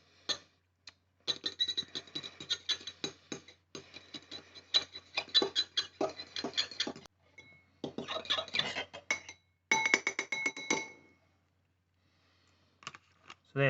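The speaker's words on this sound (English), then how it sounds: "We'll lightly whisk these eggs. You could use a whisker, but I'm just using a fork." Eggs lightly whisked with a fork in a bowl while making brownies, a fast run of close clinking taps in several bursts with short pauses between them.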